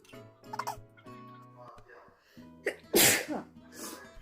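A woman with a cold gives one sharp, loud sneeze near the end, set against a kitchen background with other sounds before it.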